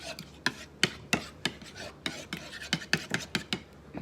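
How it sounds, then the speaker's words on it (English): Eggs are whisked in a big bowl, giving a quick, uneven series of close, sharp taps and scraping strokes against the bowl, fairly quiet, with no talk. "Whisk these."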